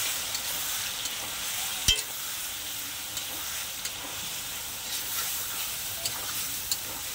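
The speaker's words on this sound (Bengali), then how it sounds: "তো এবার মাংসটাকে খুব ভালো করে আমি একদম তেল বেরোনো পর্যন্ত কষিয়ে নেব।" Meat for dum biryani sautés in oil until the oil separates, a steady close sizzle with one sharp utensil clank and a few light taps of stirring, no voices.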